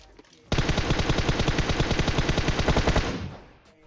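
A long burst of rapid automatic gunfire in PUBG Mobile, close and loud, rattling steadily for a few seconds before trailing off.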